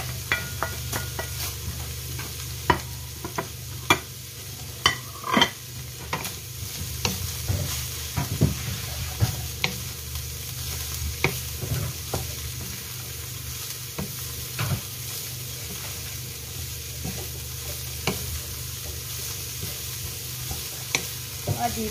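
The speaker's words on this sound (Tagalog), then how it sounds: "Gigisahin muna natin yung repolyo hanggang maging luto ng konti." Cabbage sautés in a hot pan with a soft, continuous sizzle, broken by scattered sharp clinks and scrapes of a utensil stirring against the metal, fairly quiet and close, with no talking.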